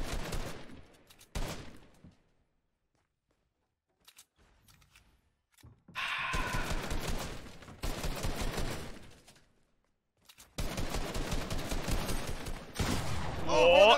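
Bursts of rapid gunfire crackle in a Fortnite box fight, arriving in dense clusters separated by quiet gaps, loud and close, with a player's voice heard in between.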